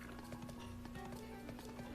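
Horses gallop in Zelda Breath of the Wild as a steady, quiet run of clip-clop hoofbeats, with a constant tone and game sounds underneath.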